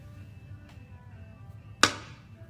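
Fingers flick embossing powder off a sheet of paper over a trash can, giving one sharp, close tap against a quiet room hum, with a fainter flick just before it.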